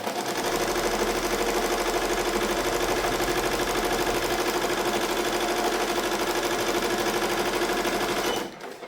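An embroidery machine stitches a design on a hoodie, running fast with a steady loud rhythmic clatter and hum for more than eight seconds before it slows and stops at the end.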